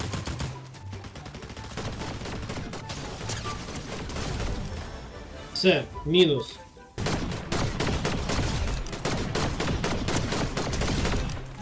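Rapid gunfire in the Fortnite video game, dense bursts of automatic shots rattling almost nonstop, briefly broken by a chiming pickup-like effect, while players talk over the action.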